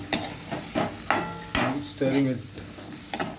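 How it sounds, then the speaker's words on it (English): Vegetables stirred in a pot for kootu stew, a series of irregular clinks and scrapes of a spoon against the pot, close and moderately loud, with a faint voice briefly over them. "Stir the vegetables a bit."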